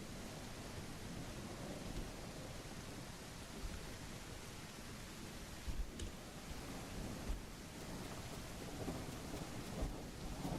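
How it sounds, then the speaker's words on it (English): Heavy rain pours in a stormy landscape in the survival game The Isle Evrima, a dense roar of downpour with low thunder rumbling beneath, no talk. "There's so much rain that I don't want any rain anymore."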